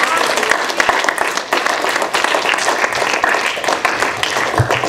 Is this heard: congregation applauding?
yes